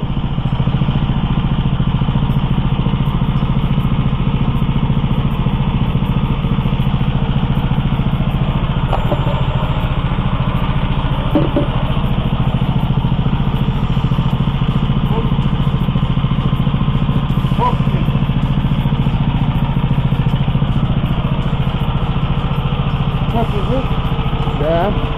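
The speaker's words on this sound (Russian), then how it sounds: "Вот, сейчас у нас редуктор просто на первой скорости." A small Oka single-cylinder walk-behind tractor engine runs steadily with its gearbox in first gear, giving a continuous close, loud drone and mechanical clatter throughout, with a few faint knocks.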